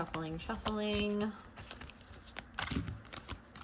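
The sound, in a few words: shuffling a tarot card deck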